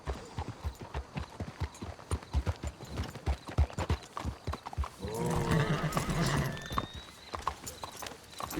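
Horses in the Western game Red Dead Redemption clip-clop at a steady walking rhythm throughout, then one horse gives a loud, drawn-out neigh near the end while distant voices murmur in the background.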